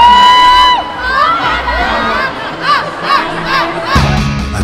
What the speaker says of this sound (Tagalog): Maririnig ang mga sigaw nila.